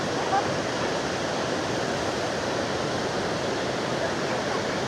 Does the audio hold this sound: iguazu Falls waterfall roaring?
yes